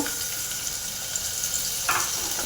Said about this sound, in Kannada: ಆಯಿಲ್ ಕಾಯ್ತಾ ಇದೆಯಲ್ಲ, ಅದಕ್ಕೇನೆ 1 ಈರುಳ್ಳಿ ಹಾಕ್ಕೊಂಬಿಡೋಣ